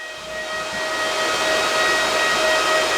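An Elphapex DG-1 ASIC crypto miner running loudly, a dense steady fan roar with a high whining tone, growing slightly louder and holding constant.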